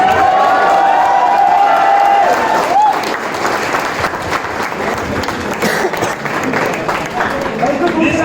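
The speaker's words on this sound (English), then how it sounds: "Give a round of applause for Anubhav Jain" Students at a computer science farewell event applaud a classmate, a loud, sustained wash of crowd clapping with some cheering and voices woven through, filling the room close up.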